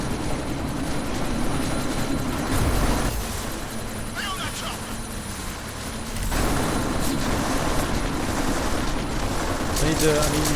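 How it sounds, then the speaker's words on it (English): Military helicopter in Deus Ex: Mankind Divided, a steady rotor and engine drone running throughout, loud and close, with a brief dip midway before returning at full strength, with faint game effects over it. "That chopper's about to take off."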